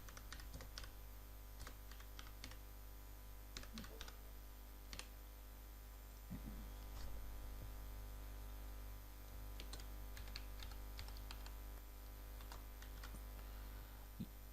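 Login details are typed on a computer keyboard: quiet, irregular key clicks in short bursts over a low steady hum, with no voices.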